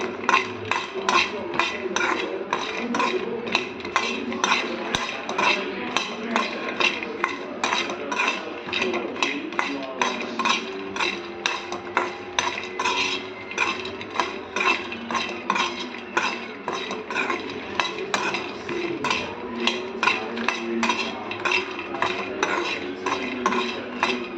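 A utensil scrapes and clinks against a pan in a fast, steady rhythm as masala makhana (fox nuts) is stirred, with no pause across the whole stretch and no voices.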